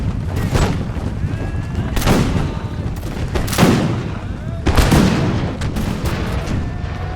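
Massed musket volleys and artillery fire roar in the Napoleonic strategy game Imperial Glory, with Russian troops fighting an Austrian army. Repeated loud cracks and booms overlap into dense, rolling gunfire, with several sharp bursts standing out over a continuous battle din.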